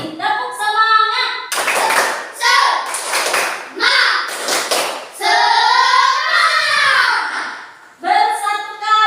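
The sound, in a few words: classroom children doing rhythmic 'tepuk semangat' clapping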